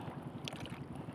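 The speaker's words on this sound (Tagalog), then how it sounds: "biglang lumakas ang hangin" Steady strong wind buffeting a small fishing boat at sea before a typhoon, a continuous rough roar with gusty fluctuations and no voices.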